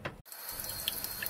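Water poured from a tap or kettle over Teochew pickled mustard greens in salted water to soak them, a steady close gush of running, splashing water after a brief pause at the start.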